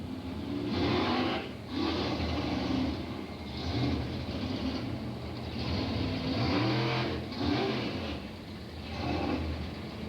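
A 1955 Chevy all-steel drag racing car roaring at Englishtown during the 1983 Springnationals, a loud engine drone rising and falling in waves, outdoors at a distance.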